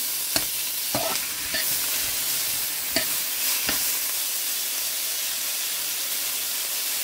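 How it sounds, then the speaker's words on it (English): Butter sizzles steadily in a hot pan, a constant fizzing hiss broken by a few sharp clicks and stirring scrapes near the start, close and fairly loud with no talking. "my pan is already hot. So I'm adding my butter"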